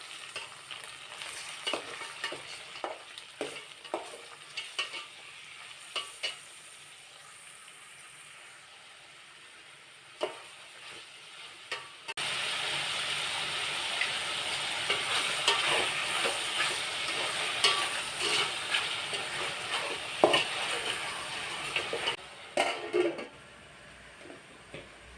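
Washed raw chicken pieces going into a pan of frying green chillies for chicken pulao, bringing a steady, fairly loud sizzle with stirring scrapes that runs continuously after a quieter stretch of intermittent clinks.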